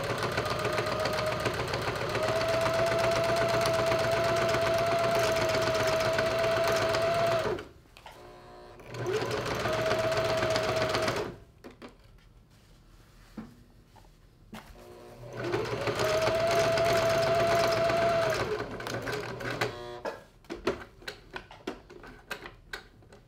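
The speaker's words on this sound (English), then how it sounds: "I fold good side facing the good side, and then sew them along the seam line." Sewing machine stitching fabric scraps together along a seam line, with a close, rapid mechanical whir in three sustained runs separated by pauses filled with quieter handling clicks.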